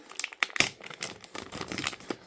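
A large plastic bag holding dolls crinkles and rustles close by, with sharp crackles and bursts of handling noise, no talking.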